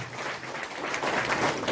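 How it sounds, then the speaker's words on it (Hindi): Applause from an audience at an event in Nadol, Pali, Rajasthan: a brief, fairly faint burst of steady crowd clapping with no speech. "तालियां बजाएं जोरदार"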